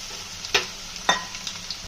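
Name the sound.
vegetables with capsicum frying in a pan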